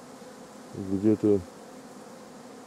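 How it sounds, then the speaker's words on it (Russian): Honeybee drones drone at a rural village apiary with a low, steady buzz, and a close voice briefly speaks over it. "Вон, трутней-то сколько."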